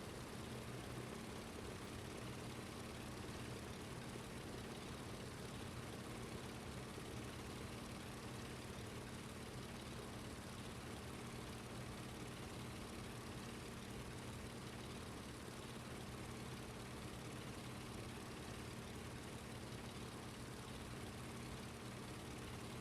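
The droning single propeller engine of a Dornier Do J Whale flying boat in Microsoft Flight Simulator 2020, a constant, even hum and rumble holding steady without pause for over twenty seconds.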